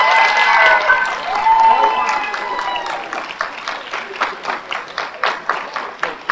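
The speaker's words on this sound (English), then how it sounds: "now it's time for you to give your families the applause that they absolutely deserve" Graduates at an MSW hooding ceremony applauding their families, loud dense clapping with cheering that thins toward the end into slower, distinct individual claps.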